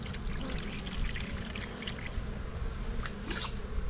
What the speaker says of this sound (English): So what we're going to do is just pour this in. This is 1-to-1 syrup that we mix.